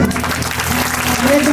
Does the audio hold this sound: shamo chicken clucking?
no